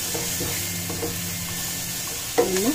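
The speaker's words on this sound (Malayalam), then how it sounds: "ഒരു രണ്ട് മൂന്ന് മിനിറ്റ് കൂടെ ഞാനൊന്ന് ഇതിലൊന്ന് ഞാൻ വഴറ്റി എടുക്കട്ടെ" Onion, ginger and garlic being sautéed in a pan for pepper chicken, a constant close sizzle with soft stirring strokes and a louder scrape near the end.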